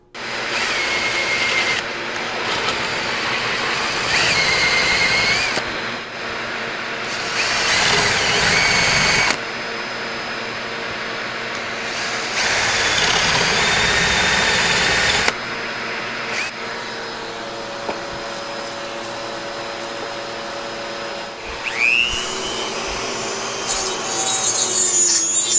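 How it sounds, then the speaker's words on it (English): A paddle bit bores into a Fender Telecaster guitar body in loud, sustained bursts of drilling, several seconds each, separated by short pauses, with a faint whine and light handling noises near the end. "I'm going to get some paddle bits out and drill so I don't have so much material to remove with the Dremel"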